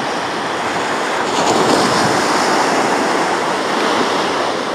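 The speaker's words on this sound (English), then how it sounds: "Big waves in the boat." Loud, continuous rush of big ocean waves around a boat at a beach, dense and steady with wind buffeting the microphone, no voices.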